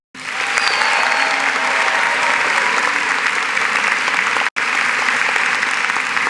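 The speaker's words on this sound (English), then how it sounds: "I will now read out their names and give them some applause." Sustained applause from a ceremony audience at a medical school white coat ceremony, steady and full throughout, with one very brief cut in the middle.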